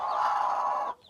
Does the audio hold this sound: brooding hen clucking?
yes